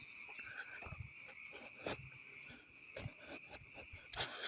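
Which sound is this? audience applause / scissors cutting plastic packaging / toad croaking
toad croaking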